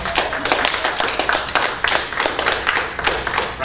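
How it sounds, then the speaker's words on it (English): Toastmasters audience clapping for a speaker after a tribute speech, a small group's individual claps clearly distinct and close, irregular and lively, with no voices. "So if we could give her a round of applause"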